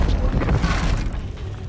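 A Confringo blasting spell explodes in the game Hogwarts Legacy, a single loud, rumbling boom that fills the short moment and then slowly fades.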